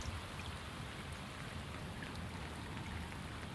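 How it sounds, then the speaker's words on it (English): Heavy rain pouring in the video game Shadows of Doubt, a steady, dense wash of rainfall that holds even and continuous throughout without letting up. "It's pouring with rain."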